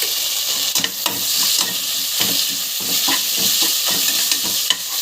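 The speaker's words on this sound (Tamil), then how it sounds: "நல்லா வதக்கிக்கலாம். Ginger garlic paste" Steady sizzling and frying of ginger garlic paste in a hot pan with repeated scraping and stirring strokes of a spatula, close up and without talk.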